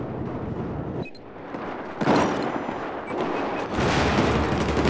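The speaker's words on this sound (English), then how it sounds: "Air bursts, explosive rounds, grenade launchers." Dense gunfire and explosions in the Battlefield 4 video game, with air bursts, explosive rounds and grenade launchers firing on the Operation Locker map, loud, continuous and layered with heavier booming surges.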